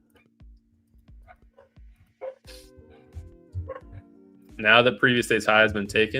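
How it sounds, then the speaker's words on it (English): A dog barks in the background with several short, distant barks and yips, and a voice talks over it as the speech grows louder. "Sorry about the dog barking in the back."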